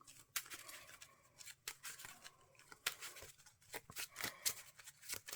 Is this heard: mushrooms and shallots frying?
no